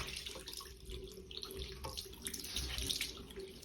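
Running tap water splashes steadily onto a makeup sponge being wetted, a continuous soft hiss and patter up close with no talk over it.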